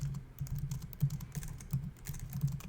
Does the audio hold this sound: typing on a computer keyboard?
yes